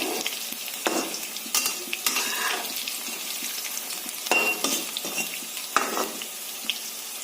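Atta pakoras sizzle steadily in hot oil, a dense continuous frying hiss with occasional stirring and utensil scrapes close by.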